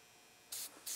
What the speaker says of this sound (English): Just going to spray a little penetrating fluid on here because she is just about corroded